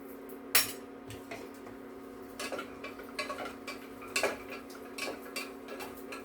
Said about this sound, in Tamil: இப்போ இதில் முந்திரி திராட்சையை போட்டு இது பண்ணிக்கலாம், வறுத்துக்கலாம்.